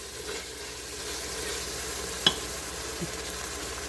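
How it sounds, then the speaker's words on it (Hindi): Steady loud sizzling of boneless chicken frying with garlic ginger paste in a hot pan over full heat, continuous hiss throughout with a couple of brief clinks of a utensil. "लहसुन के साथ, लहसुन अदरक की पेस्ट के साथ हम इसको फ्राई कर रहे हैं।"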